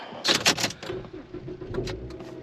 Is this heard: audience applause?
no